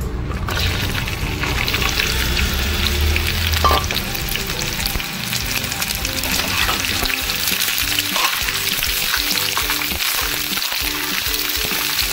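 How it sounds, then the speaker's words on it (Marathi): Cut okra fries in hot oil in a pan, producing a loud, dense, continuous sizzle close by with faint scraping from stirring throughout. "भेंडी फ्राय करूया. पॅन तापले. आपण आता त्याच्यामध्ये तेल टाकूया."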